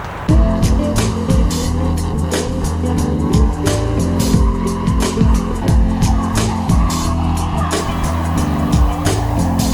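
A drift car skidding during free practice at a Scottish drifting competition, loud revving engine with wavering pitch and repeated tyre squeal and bursts of skidding, close and continuous, with some voices faintly underneath.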